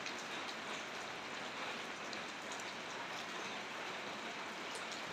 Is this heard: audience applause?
no